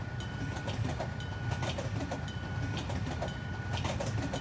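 Train rolling past in the Truck Simulator Ultimate driving game, a steady loud rumble with rhythmic clickety-clack of wheels over rail joints and a faint sustained tone, continuous throughout with no voices.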